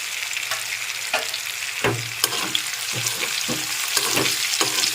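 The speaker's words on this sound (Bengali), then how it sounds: "একটু নেড়ে ছেড়ে মিশিয়ে নিলাম" Chili chicken sizzles steadily in a hot pan while a spatula stirs it in repeated scraping strokes, the frying loud and close with no talking.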